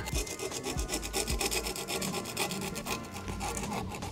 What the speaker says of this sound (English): I always use a flathead. Find the weld and just basically work your way around it.